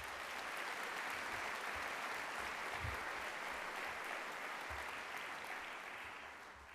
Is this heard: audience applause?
yes